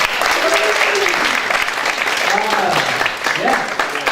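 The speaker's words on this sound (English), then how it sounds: "Can we give them another round of applause?" Audience at a spiritual center service applauds the performers, steady clapping heard with overlapping voices and cheers on top.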